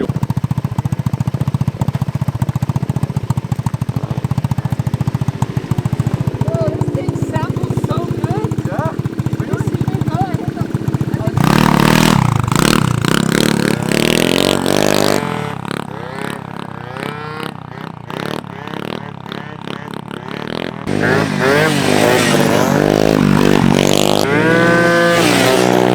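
A two-stroke Honda Elite 150 scooter engine revs hard during wheelies, loud and raspy with rising and falling pitch. Voices talk over it, and the engine eases off briefly in the middle.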